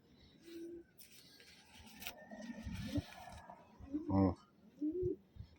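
Taiwan pigeons coo in a loft, with several low, short coos and a brief rustle among them, while someone talks softly nearby.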